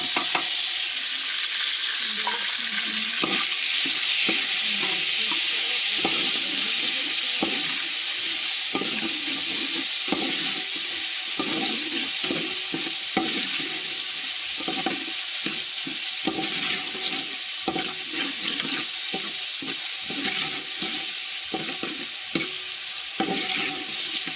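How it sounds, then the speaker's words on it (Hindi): Tomatoes sizzling and frying with browned onions in ghee for an aloo gobi sabji, with a continuous loud hiss and repeated scraping stirs of a spoon against the pan, close up with no talking. "प्याज ब्राउन हो चुकी है, अब इसमें टमाटर ऐड करते हैं।"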